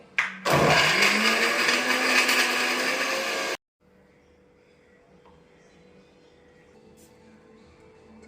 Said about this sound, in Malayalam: ഇഞ്ചി കൊച്ചുള്ളിയും വെളുത്തുള്ളിയൊക്കെ നല്ലപോലെ കഴുകിയിട്ട് അരക്കണം